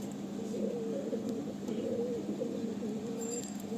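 Pigeons kept for sale coo in low, repeated throaty rolls, steady and fairly close, with a faint high whine and light background noise.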